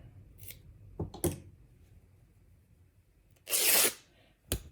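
Quilting fabric rips in short bursts: two quick tears early on, then a longer, louder rip and one final sharp tear, close and otherwise quiet.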